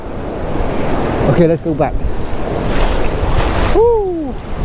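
Ocean waves wash in at Ocean Beach with a loud, windy surf hiss and rumble, gusts buffeting the microphone, while a person speaks briefly and a seagull-like call sweeps in near the end.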